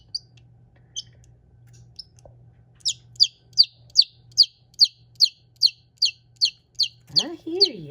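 A pet bird gives a few scattered peeps, then a steady series of about a dozen evenly spaced, sharp chirps nearby, with a low hum underneath and a voice starting at the end.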